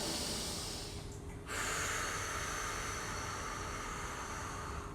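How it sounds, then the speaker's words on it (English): A deep breath during a hip stretching session, a long, steady airy inhale that gives way to a fuller exhale partway through, close and alone. "Let's take one more breath."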